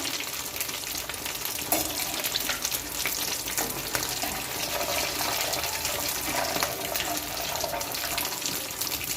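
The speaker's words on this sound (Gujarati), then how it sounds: "ફાસ ગેસ પર જ આપણે તળી લેવાનું છે" Bread cutlets frying in hot oil on a high flame, a steady, dense sizzle that runs unbroken from start to finish, close and fairly quiet.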